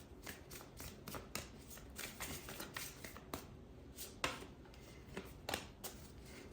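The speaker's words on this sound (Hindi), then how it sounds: "Hey, I have to shuffle more." Tarot cards being shuffled by hand, quick soft riffling flutters that repeat in short bursts with brief gaps between, close and fairly quiet.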